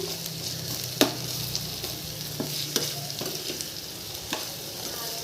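Onions for a prawn and spinach gravy sauté in a pan with continuous sizzling, punctuated by sharp spoon scrapes and taps against the metal at irregular intervals, close up and without talk.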